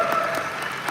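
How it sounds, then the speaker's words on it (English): Brief burst of applause from a live conference audience in Miami, steady dense clapping filling the whole moment without any voices standing out. "You should all be screaming and clapping."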